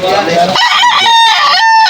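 A rooster at an outdoor pet market crows loudly and close by, a single drawn-out call with clucking from other fowl in the background.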